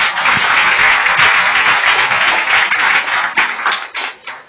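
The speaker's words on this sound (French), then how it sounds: "Applaudissez mon Dieu, applaudissez." A church congregation claps during a worship service, a dense, loud wash of applause that holds steady before thinning and fading near the end, with no talk over it.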